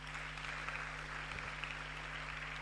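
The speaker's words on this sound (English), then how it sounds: "Let's just clap to him." Steady, hiss-like clapping from an audience at a future leaders' summit, fairly faint and even throughout, with a constant low electrical hum underneath.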